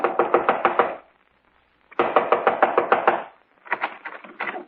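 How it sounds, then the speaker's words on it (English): Knocking on a front door as a radio drama sound effect, with two quick runs of about six sharp, close raps each, a pause between them and a looser third burst of knocks after. "Within 15 minutes, I was knocking on his front door."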